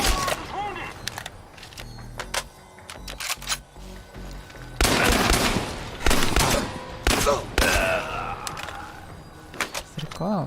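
A powerful gun fires in Chernobylite, a handful of loud, sharp shots spaced unevenly apart with bursts of rattle, close and punchy over a quieter game background.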